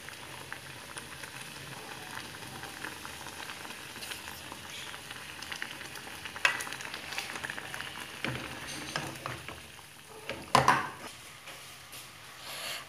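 Crêpe batter cooks in a hot pan with a soft, steady sizzle and bubbling, broken by a few brief clinks and taps near the end and no talking.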